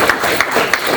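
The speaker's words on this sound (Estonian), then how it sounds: "teeme siis Eevale sinna väikse aplausi" A brief, small round of applause at the end of a lecture talk, a few people clapping close by in a short, even burst.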